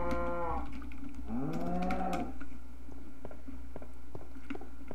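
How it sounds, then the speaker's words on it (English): Cattle low in the blocky sandbox game Minecraft, two drawn-out moos in quick succession over a steady low hum, followed by faint clicking. "Shut the fuck up, cows."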